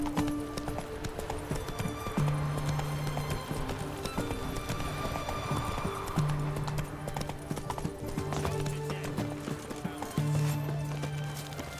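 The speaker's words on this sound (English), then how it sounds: "Come on, Roach." A horse in The Witcher 3 video game gallops with brisk clip-clopping hooves and a brief whinny, set against sustained game music and ambient noise.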